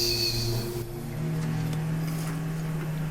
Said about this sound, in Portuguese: Ó, tá barulho de carro acelerando.